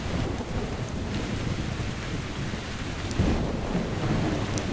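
A thunderstorm in the video game Metro Exodus, with a low rumble of thunder rolling under steady rain hitting surfaces, moderately loud and continuous with no talk.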